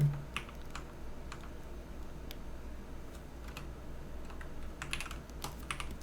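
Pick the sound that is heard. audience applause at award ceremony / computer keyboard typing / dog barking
computer keyboard typing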